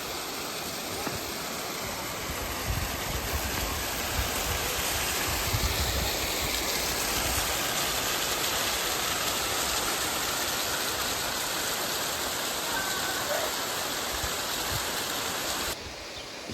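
Waterfall at Lydford Gorge in Devon, water tumbling off a cliff face into the river below, a continuous dense rushing roar held steady throughout.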